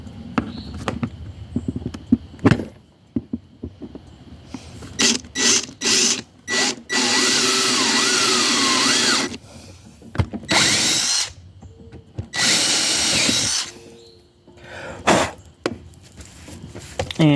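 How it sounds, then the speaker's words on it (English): A power drill boring a lanyard hole in a knife handle during a field knife kit build, sounding in several loud whirring bursts of a few seconds each, separated by clatters, handling knocks and quiet gaps. "And I've drilled me a lanyard hole in there."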